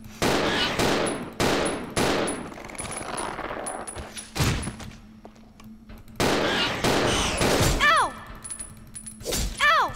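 Video-game gunfire in Resident Evil 0 during a fight with the Proto Tyrant, loud separate shots in short bursts with gaps, plus metallic pings and ringing effects near the end.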